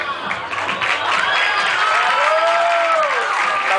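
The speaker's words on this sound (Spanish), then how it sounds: "Fuerte aplauso para todas las aspirantes" Pageant audience applauds and cheers for the contestants, a dense crowd clapping with whoops rising over it, steady and loud throughout.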